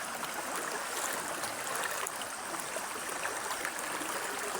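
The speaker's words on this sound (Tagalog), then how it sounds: "Iba ho agos ngayon mga idol." A strong river current rushes continuously at a steady, fairly loud level, a broad wash of water noise with no talk over it.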